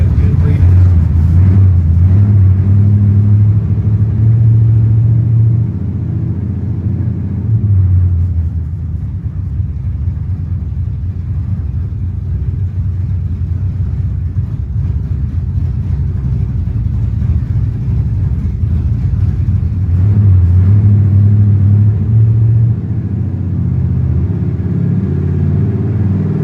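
Supercharged 434 small-block Chevy engine in a Nova running on a chassis dyno, a loud, close, continuous rumble that climbs and falls through an uneven pull lasting the whole stretch.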